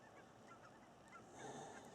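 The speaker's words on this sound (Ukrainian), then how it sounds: "Там гуси летять над моєю хатою." Canada geese honk in flight from a distance, a loose chorus of calls over steady outdoor winter background noise, growing a little louder toward the end.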